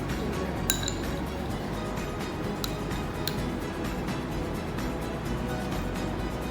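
A spoon clinks against a bowl while sugar is added to cut fruit for a kids' fruit salad, with a few sharp metallic taps close by over a steady low background hum.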